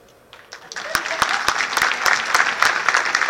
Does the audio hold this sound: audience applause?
yes